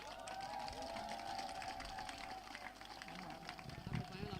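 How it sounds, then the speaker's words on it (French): Audience at an association gala giving sustained applause, a dense patter of clapping heard at moderate distance while a voice talks over it. "On applaudit très fort, mesdames et messieurs,"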